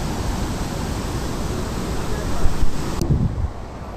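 Water released at high speed from Harike dam in Punjab, a loud, dense, continuous rush and roar heard from nearby, steady throughout with a slight swell near the end.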